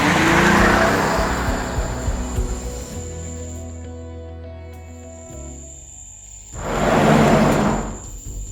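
A car in Roblox Brookhaven roars loudly past outside, then its engine settles into a droning hum with tonal whine before another loud rushing pass sweeps by near the end; no talking.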